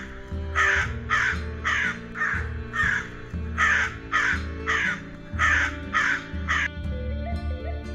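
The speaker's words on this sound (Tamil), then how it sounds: "காகம் காகம்" A crow caws about ten times in a regular, evenly spaced rhythm, each call loud and harsh, set over a steady musical backing.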